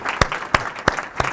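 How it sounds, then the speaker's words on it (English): Audience applause at an evening event, with a few sharp, loud claps standing out at a steady rhythm over a softer clapping background, close and brief. "I actually think we should give you all a round of applause"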